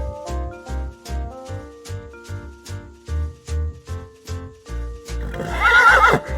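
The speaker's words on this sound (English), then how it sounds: "I see a horse." A horse whinnies near the end, a loud rising neigh over a steady clip-clop of hooves and a bouncy farm-animal music backing with a regular beat.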